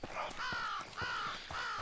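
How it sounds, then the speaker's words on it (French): Three harsh crow caws in the video game Ghost Recon Breakpoint ring out in quick succession, evenly spaced and fairly close, with faint background noise. "Ouh, il y a des corbeaux."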